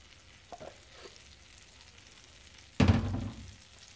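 Unsalted butter drops into a preheated pan with a sudden, close sizzle that bursts loudly and then fades over about a second after a quiet start.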